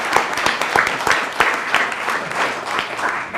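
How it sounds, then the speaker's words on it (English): Audience applause at a scholarship fund reception, a steady round of many hands clapping that carries on throughout, fairly close and full. "How about a round of applause for them?"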